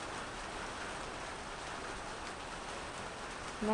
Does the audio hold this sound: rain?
yes